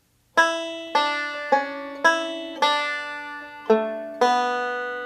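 Seven plucked, bright banjo notes ring out one after another at an even pace, each decaying slowly, a short solo phrase from the tune Whisky Before Breakfast with no voices.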